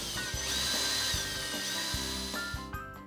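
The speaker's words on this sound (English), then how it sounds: "Drill pilot holes," A power drill bores pilot holes into the underside of a wooden furniture top while installing an anti-tip safety kit. It whines steadily and close, with several short bites and pitch changes, and no one speaks.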